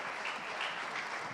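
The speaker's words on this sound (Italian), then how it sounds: "Potete prolungare l'applauso per Yasmin, grazie." Studio audience applause following a sung performance of Sardinian regional songs, fairly faint and steady clapping throughout.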